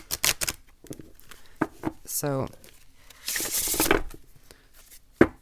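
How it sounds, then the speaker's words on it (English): A deck of Archeo oracle cards being shuffled in hand, a series of quick riffling and rustling bursts of card against card, close up, with a brief spoken word in between. "Let's give a little shuffle"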